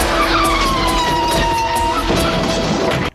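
A paddy wagon in an action film drives hard with tires skidding and squealing, a loud, close, continuous screech over engine roar that cuts off abruptly near the end.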